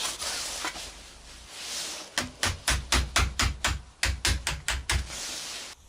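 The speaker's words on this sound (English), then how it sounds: "I'm taking the hammer and I'm knocking it along the line to put the bend in" Sharp hammer blows strike a Yugoslavian mess tin lid along a line to bend it, in a quick, steady series, about a dozen evenly spaced knocks ringing close by after a few seconds of quiet.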